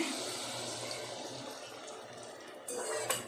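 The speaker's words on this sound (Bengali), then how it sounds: "দিয়ে 3 কাপ মতো গরম জল, উষ্ণ গরম জল দিয়ে দেব।" Warm water pours into a cooking pot for dhokar dalna, a steady, close rushing splash that thins out and then swells again briefly near the end.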